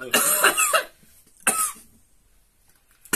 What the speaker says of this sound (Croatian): Ovako je moj pokojni dede kašljao.